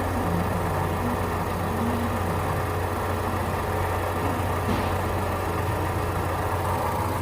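A 2014 Ford Fusion engine with an aftermarket alternator idles smoothly and steadily, a continuous close-up hum and low drone with no surging or change in level.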